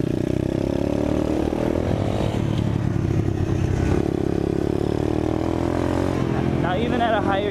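A 2019 Apollo 125 pit/dirt bike engine running in a higher gear, a loud steady buzzing drone with shifting revs that holds throughout, with wind noise and some rattling clatter mixed in.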